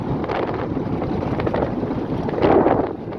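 Gusty wind roars across the microphone in a steady, rough rush, swelling louder for a moment near the end.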